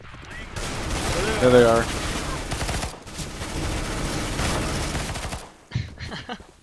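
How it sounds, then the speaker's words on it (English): Heavy automatic gunfire rattles in Counter-Strike on the Mirage map, long loud bursts interrupted by brief pauses, while a player talks over the shooting. "We're gonna start shooting now."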